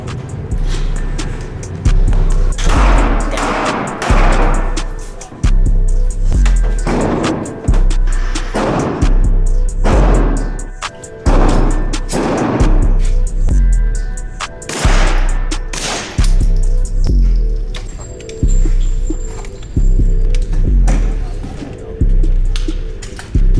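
Gunfire at an outdoor shooting range: loud, close single shots with booming reports, spaced a second or two apart in irregular bursts over twenty-odd seconds, each followed by a brief echoing decay.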